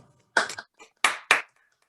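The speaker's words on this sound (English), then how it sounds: "There was a round of applause for our speaker, please" A small audience at a talk on the cemetery at Haidar Pasha, Istanbul, gives a few sparse, close hand claps, four or five distinct bursts rather than sustained applause.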